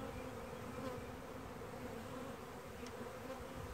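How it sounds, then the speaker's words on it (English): A steady, close drone of many honey bees buzzing together while a package of bees is installed in a hive, continuous and even, with no voices. "when you shake the bees out, they don't fall right on top of her"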